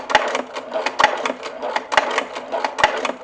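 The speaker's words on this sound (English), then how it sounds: "when you're going to stitch around this radius instead of a straight line, but you can still follow the edge of your presser foot" A sewing machine stitches slowly around a curved radius on a leather lanyard cell phone case, a close rhythmic whir of needle strokes with regular clicks, starting and slowing in short bursts.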